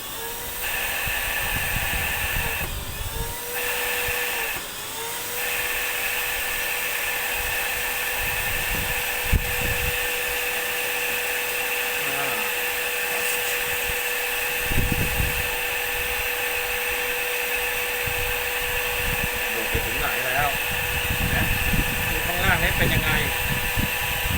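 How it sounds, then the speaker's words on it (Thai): A vacuum cleaner attached to a PVC pipe runs to pull dripping water from an air conditioner drain, a steady loud whine and hum with occasional surges while someone talks intermittently. "เปิด เครื่องดูดฝุ่นกันเลย"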